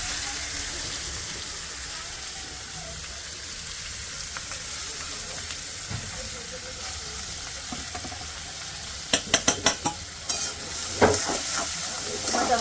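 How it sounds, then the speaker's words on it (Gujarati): Onions and capsicum fry in butter with cumin, a steady close sizzle running throughout, with a few sharp clinks of a utensil against the pan near the end. "હવે આ કાંદા કેપ્સિકમ ને થોડું ગોલ્ડન બ્રાઉન થવા દઈએ, પાકવા દઈએ."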